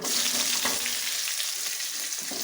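Curry leaves and onion fry in a hot pan, a close, dense crackling sizzle with brief stirring scrapes, continuous and fairly loud.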